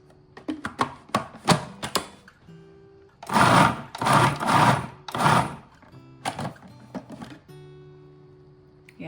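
A food processor pulses chunks of tomato, onion and pepper for homemade canning salsa. Several short pulses come first, then three longer loud whirring bursts, then a few more brief pulses, all close and with no talking.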